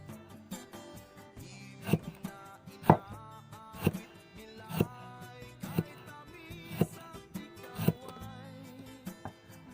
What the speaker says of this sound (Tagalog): Tapos hiwa-hiwain natin mga kabukid.